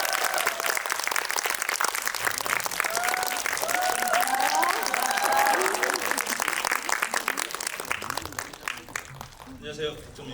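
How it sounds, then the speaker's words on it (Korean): Sustained applause from a large audience welcoming a guest at a children's and youth film festival talk event, dense clapping with cheers and voices mixed in, fading out toward the end. "큰 박수로 환영해 주십시오."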